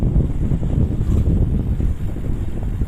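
Steady wind roars and buffets across the microphone during an outdoor bike ride, a continuous low rumble with no talking.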